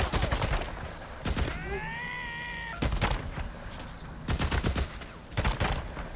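Bursts of rapid gunfire from a Days Gone video game erupt in several loud clusters, separated by short gaps, with a tonal whine and an animal-like bleat in between.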